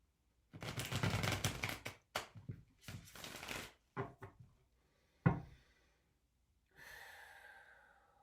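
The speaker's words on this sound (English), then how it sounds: "I'm going to shuffle one more time. Makes the reading a little more organic." A Souls on Fire tarot card deck being shuffled in bursts of riffling and soft card slaps, close and quiet, separated by short pauses.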